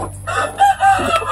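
A rooster crows loudly and close among breeder chickens, one strained, wavering call with clucking fowl around it.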